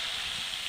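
Water tipped into a hot pan of spiced cauliflower kofta curry sets off a close, steady hissing sizzle that stays even for the whole short moment.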